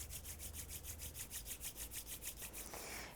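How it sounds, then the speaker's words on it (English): Palms rub together in a quick, even back-and-forth rhythm, a close, soft dry swishing repeated about a dozen times with no voices. "rubbing your palms together in front of your heart"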